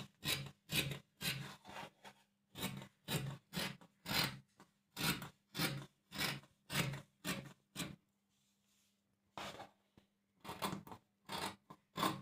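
Scissors snip steadily through blouse lining cloth in a quick, regular rhythm of close, crisp cuts, pausing briefly before a few more snips resume.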